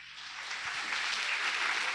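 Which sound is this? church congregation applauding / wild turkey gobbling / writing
church congregation applauding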